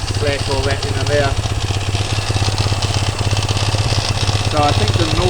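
A Honda FTR 230 engine fitted in a CTX200 frame idles close by, a steady rhythmic low thrum with fine ticking, while someone talks over it.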